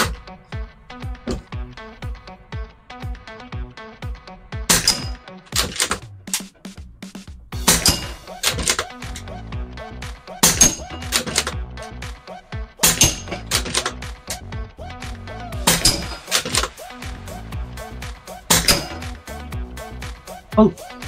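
Airsoft pellets striking a new screwed-in metal shooting target, giving a series of sharp, ringing impacts spaced a few seconds apart, loud and close, over a steady musical background.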